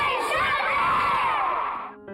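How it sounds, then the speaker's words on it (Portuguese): Children at a football club loudly shout the club's war cry together, a massed, sustained chant that fades out abruptly at the end. "Décio Burtê, a criançada os envolveu numa corrente de carinho, com presentes, homenagens e o grito de guerra do clube."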